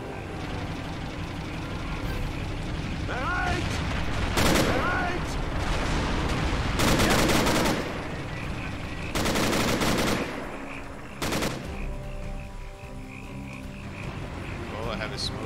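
Mortar and gunfire crackle in the World War II strategy game Men of War: Assault Squad 2, with repeated bursts and blasts over a busy battle background while players talk.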